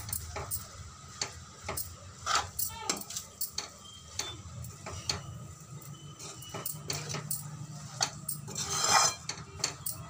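Veg chowmein noodles tossed and mixed in a pan over a high gas flame with green chili sauce, giving repeated metallic scraping and clinking of a utensil against the pan over a low steady burner rumble and faint sizzle.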